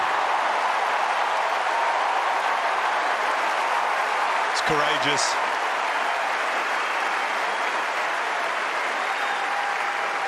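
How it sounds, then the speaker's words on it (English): Wimbledon crowd at the 2024 gentlemen's singles final applauds Carlos Alcaraz and Novak Djokovic with loud, steady clapping that fills the whole stretch, while a commentator speaks briefly over it. "The applause is for both these players"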